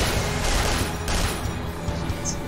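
Sustained loud gunfire and explosions from the video game Duke Nukem Forever, a dense continuous barrage of shots and booms with no pauses and no talking.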